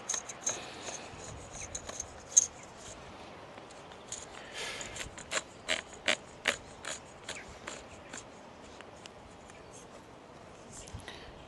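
Small metal parts of a Beretta 1301 shotgun being screwed back together, a quiet run of clicks and scraping rasps with a burst of sharper ticks in the middle, close and fairly faint.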